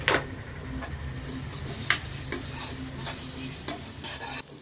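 Ingredients for beetroot rice sautéing in a pan: a continuous sizzle with a scraping stir every second or so, loud and close, with no talk.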